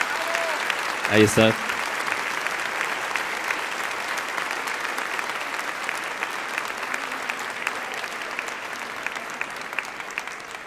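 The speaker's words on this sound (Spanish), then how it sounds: "que oiga el aplauso, ¿verdad?" Applause from an audience at an event in Puebla, steady dense clapping filling the whole stretch at moderate loudness, with a brief spoken interjection near the start.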